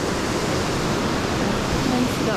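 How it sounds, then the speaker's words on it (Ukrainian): A small waterfall on a river in a provincial park, a steady broadband rush of falling water heard close and continuous throughout, with no distinct voices. "А ось тут міні-водоспад зразу."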